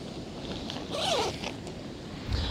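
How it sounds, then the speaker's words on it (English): A zipper on a surfboard travel bag gets a single quick pull, a short rising zip in a fairly quiet setting with faint background noise. "just running the zipper back and forth a few times will help keep that from happening"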